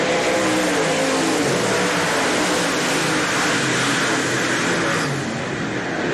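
Late model race cars roar around a dirt track at a World of Outlaws event, a dense, continuous engine din with revving and passing cars that stays loud throughout.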